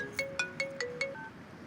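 A phone rings during a call with a repeating electronic ringtone, five short tonal chirps evenly spaced about a fifth of a second apart, then a trailing tone, fairly quiet and alone.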